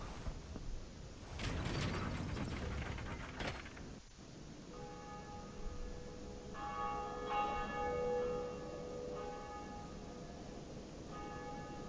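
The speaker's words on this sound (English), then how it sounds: "we get to ring this bell." A large bell in the Dark Souls video game clangs loudly several times in quick succession. Afterward, mechanical creaking and a sustained ringing tone fade out slowly, with no one speaking.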